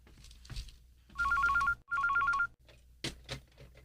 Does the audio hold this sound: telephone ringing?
yes